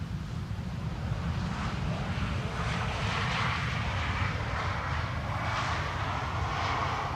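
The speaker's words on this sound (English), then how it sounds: "The Transavia A321neo can get loud, but quite clearly the pilots have opted not to use the reversers today." Transavia Airbus A321neo landing at Amsterdam Schiphol without reverse thrust, heard as a loud, steady jet engine roar with broadband rumble and wind noise that holds for several seconds without a reverser surge.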